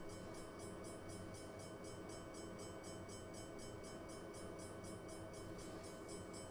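An Amtrak passenger train on the Chicago to San Antonio route rolls steadily along, a loud continuous rumble and rattle of wheels and cars with a rhythmic clatter and no talk, heard from on board.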